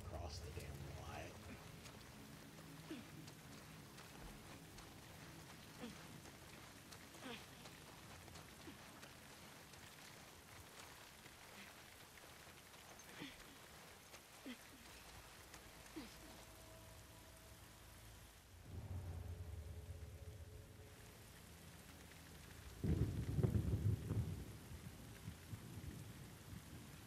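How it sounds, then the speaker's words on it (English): Steady rain with low rumbles of thunder fills a rainy Seattle scene in The Last of Us Part II, a continuous wash under scattered game sounds, swelling louder near the end. "Rain in Seattle. Let it effing rain."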